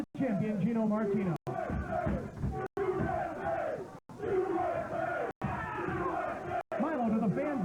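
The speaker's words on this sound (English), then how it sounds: "They are cheering on Mr. Tony USA Atlas" A wrestling crowd roars and cheers for Tony Atlas during a televised match against champion Gino Martino, loud, continuous shouting in broken bursts with a commentator's voice speaking over it.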